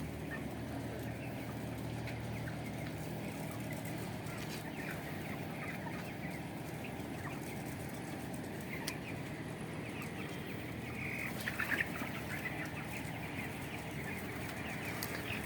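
Chicks and chickens on a poultry farm cluck and chirp continuously, a busy flock with a brief flutter of wings near the end.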